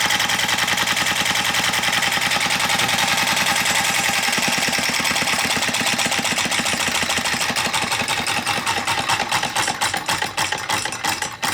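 A steam engine fitted with a new big stainless valve runs on little steam, a fast, even chuffing beat that stays close and loud throughout, slightly irregular and easing toward the end.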